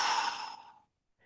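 A denture patient blows out air forcefully as if extinguishing birthday candles, one close, breathy rush that trails off into silence.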